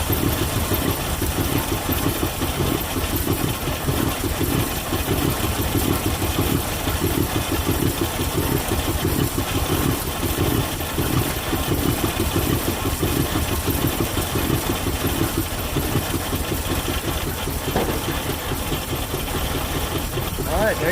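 A 1950 Mercury engine idling after sitting more than 35 years, a steady loud rumbling idle with a rough, uneven pulse running throughout without letup.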